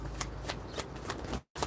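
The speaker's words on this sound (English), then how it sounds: "Shuffle." Playing cards being shuffled, a rapid riffle of papery flicks in several quick bursts, close and clear, with a brief gap of silence near the end.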